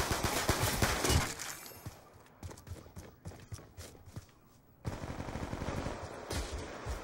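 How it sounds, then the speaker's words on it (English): A pistol fires at distant enemies in Call of Duty: Black Ops II. Sharp shots pop in an uneven sequence amid other gunfire and game noise, with a dense burst at the start and another after a short lull. "I'm using my pistol to get these far guys."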